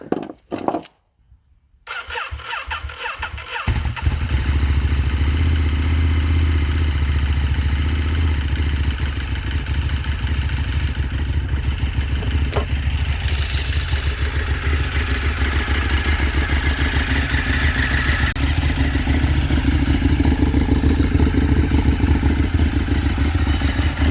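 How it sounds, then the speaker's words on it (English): A motorcycle engine starts after a few brief clattering attempts, then settles into a loud, steady idle that runs on continuously as the bike warms up. "I do have to lube my chain, but I'm gonna get the bike warming up first."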